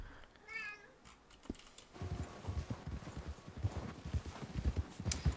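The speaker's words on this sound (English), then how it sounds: "so you hear constant meowing, that's what he's doing." Meowing from a cat in the Red Dead Redemption 2 video game rises briefly near the start, followed by a horse's rhythmic clip-clop hooves that take over loudly.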